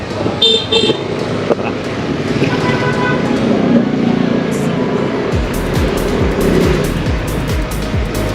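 Dense road traffic in San Pedro, Laguna, a steady roar of engines with repeated car horn toots early on, then a close motorcycle or small engine puttering rhythmically toward the end.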